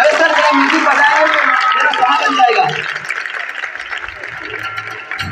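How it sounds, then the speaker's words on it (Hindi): Loud audience applause at a school naat recitation competition, a dense steady wash of many hands clapping together that eases off toward the end as a voice speaks over it. "जरा जोरदार तालियां बच्ची है।"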